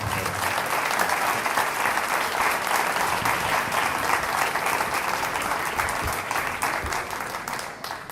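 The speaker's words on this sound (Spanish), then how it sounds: "Así que les pido un fuerte aplauso para Andrés Aciaín." Audience at a memory, truth and justice conference applauds a speaker, a sustained, even roar of many hands clapping that holds steady for about eight seconds before tapering slightly.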